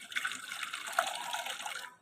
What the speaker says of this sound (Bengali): দেখো বন্ধুরা, আমি এখানে গরম জল ঢেলে নিয়েছি।